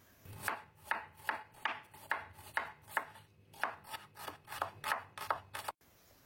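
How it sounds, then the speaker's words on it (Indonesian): A knife slices shallots in a steady run of about a dozen crisp chopping strokes on a board, close and clear with no voices, then a sudden stop. "Adapun bumbu yang diiris ada 5 siung bawang merah."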